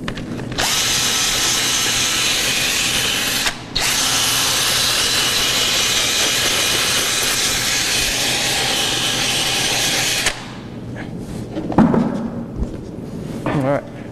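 A power sander grinds steadily on a glue-on aluminum horseshoe, loud and continuous for about ten seconds with one brief pause, then stops, leaving quieter handling noises and a voice.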